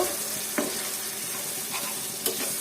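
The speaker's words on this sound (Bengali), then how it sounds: "এর মধ্যে আমি দিয়ে দিব এই যে হলুদ মরিচ আর লবণ একসাথে এইগুলো ভালো মতো কষিয়ে নেব" Onion frying in a pan with turmeric, chili and salt, a dense continuous sizzle close up with a few sharp scrapes of a spoon stirring the mixture.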